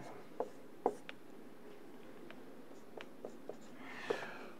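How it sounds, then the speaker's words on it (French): Chalk or marker writing on a board during a general relativity lecture, a few short scattered taps and strokes in a quiet room with faint background hiss, no talking. "Je vais l'écrire comme ça."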